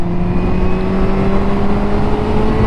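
A 2022 Honda CB1000R Black Edition motorcycle accelerates on a motorway to overtake, its engine holding a steady rising drone under heavy wind rush, heard from the rider's position.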